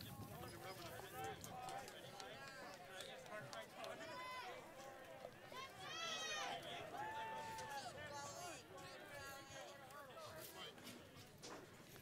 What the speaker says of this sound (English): You're hearing some people cheering for Max in the background.